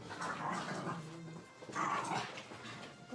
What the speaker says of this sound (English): The dogs are so excited.